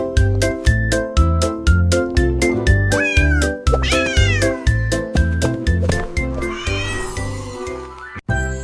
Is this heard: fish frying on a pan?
no